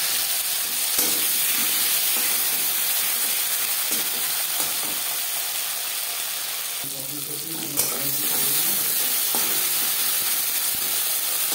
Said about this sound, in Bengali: দিয়ে দেবো টুকরো করে কেটে রাখা টমেটো